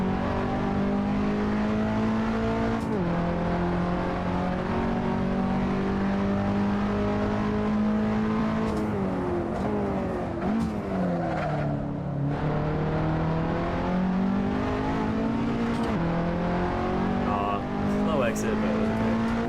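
Race car engine in Assetto Corsa, an MX-5 on a fast lap in the sim, holds a steady loud drone through shifts and rises and dips in pitch under braking and acceleration, with a voice talking over it throughout.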